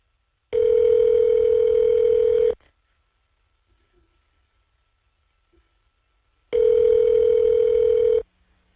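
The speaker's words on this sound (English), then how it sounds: "The number is now being dialed." A prison phone call rings through on the line: two long, steady electronic ringback tones, each about two seconds, separated by a stretch of near silence.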